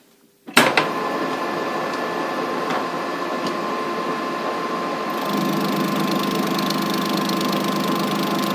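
A conventional lathe bores out soft chuck jaws: after a sharp start, a steady machine whine and hum run continuously, shifting to a slightly busier cutting tone near the end, close and loud.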